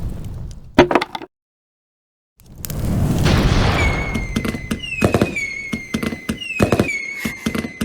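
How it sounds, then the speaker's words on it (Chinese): Fireworks go off in a loud burst of booms, then a rising hiss and rumble, followed by a string of sharp cracks with whistling tails that ring out in quick, uneven succession. "烟花开始了。"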